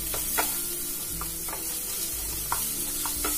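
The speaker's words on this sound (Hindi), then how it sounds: "तो इनको मैं अच्छे से मिक्स करूंगी।" Salt and turmeric powder being stirred together as filling for stuffed bitter gourd with raw mango: soft, close scraping with several light spoon taps against the bowl over a low steady kitchen hum.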